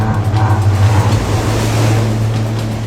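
Sea waves crashing against rocks, heard as a loud, continuous close-up rush and rumble without distinct breaks.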